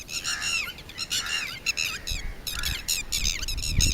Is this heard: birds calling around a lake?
yes